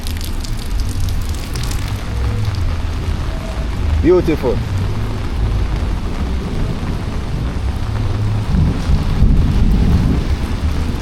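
Heavy rain pours steadily on a walk through Harbour City in Montego Bay, Jamaica, a dense continuous wash with a low rumble beneath, near and loud throughout, briefly joined by a spoken word.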